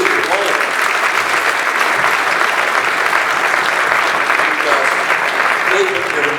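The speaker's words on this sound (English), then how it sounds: "I think they all deserve a big round of applause for what they have been doing for all of us." Audience applause at the Making Vinyl 2018 industry event, a dense, steady roar of many hands clapping that stays loud and even throughout with no break.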